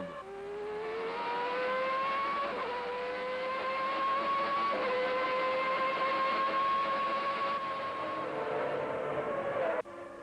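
Formula 1 cars racing during the 1991 season, a high engine whine rising through the gears with pitch shifts at each upshift, continuous and fairly loud, with another car's drone layered beneath.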